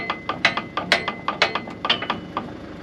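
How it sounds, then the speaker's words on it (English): Bolts being undone on a farm irrigator with a ratchet, a close run of sharp metallic clicks in an irregular rhythm with no talk. "Well, I just undone those bolts."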